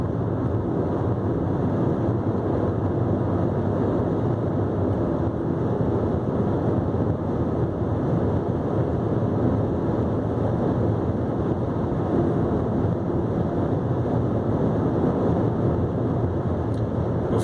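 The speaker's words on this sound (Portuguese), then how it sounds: "O ruído de vento aqui ao rodar." Steady broadband wind rush and road roar inside a Jeep Renegade cruising on a highway, a constant loud wash of noise with no talking.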